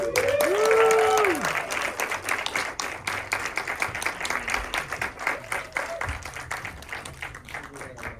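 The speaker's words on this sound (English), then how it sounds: "Give them another round of applause" A festival screening audience at Slamdance gives the filmmakers another round of applause, sustained crowd clapping that runs the full length, with a brief whistle-like tone near the start.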